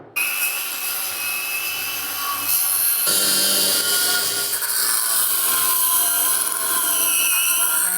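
A cutting disc grinds through a bent, stressed metal chassis on a wheelie-popping custom build in a garage, a loud continuous abrasive screech that rises in intensity after a brief pause and carries on steadily.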